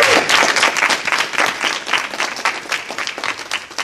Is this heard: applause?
yes